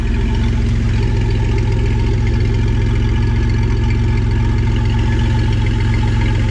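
A Chevrolet Camaro engine idles loud and steady right after being restarted, a constant close rumble with no voices.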